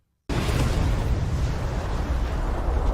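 A sudden loud bomb blast hits after a brief silence in a film, then a dense, sustained rumbling roar continues without letup.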